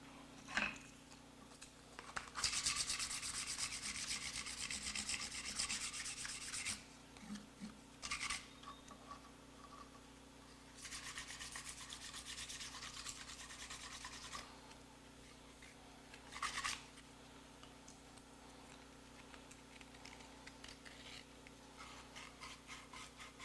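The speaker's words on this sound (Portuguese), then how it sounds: "lixando aqui por cima e por dentro dos furos para deixar o acabamento final perfeito" Sandpaper rubs over a wooden fife, outside and through the finger holes, making long bursts of close rasping friction separated by short pauses, with no voices.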